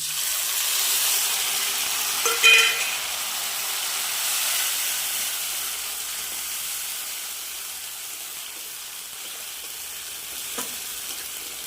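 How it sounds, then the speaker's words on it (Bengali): A ground paste of cumin, ginger, chilli, onion and garlic sautés in a pan, a close hissing sizzle that is loudest at the start and slowly fades, with a brief clink near the start and a scrape near the end. "মশলাটাকে এখন ভালোভাবে কষিয়ে নেব অল্প একটু"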